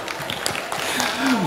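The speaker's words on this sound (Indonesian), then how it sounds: "Tepuk tangan dong." Brief audience applause at an Indonesian arisan gathering, a short burst of scattered clapping from the room, with voices mixed in toward the end.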